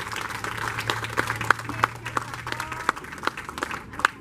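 Audience applause for a cosplayer at a national comics festival, scattered claps spreading through a crowd over a low steady hum, moderately close and building lightly across the few seconds.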